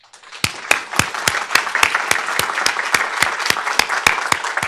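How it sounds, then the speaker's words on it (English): Audience applause at a preventive conservation symposium, building quickly into steady clapping from a seated crowd, with a few loud, sharp claps standing out close by in a fairly regular rhythm. "Can we have a round of applause?"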